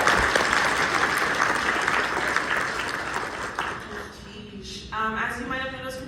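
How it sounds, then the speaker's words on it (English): Sustained applause from an audience for student panelists at a youth leadership event, a dense wash of clapping that fades toward the end as a voice begins speaking. "let's do one more round of applause for our brave panelists today"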